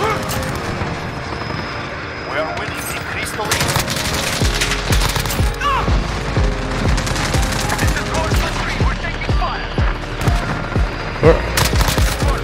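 Modern Warfare video game gunfire, with an AUG among the weapons, crackles in repeated rapid bursts and single shots, loud and close across the whole stretch, with a player talking excitedly over it.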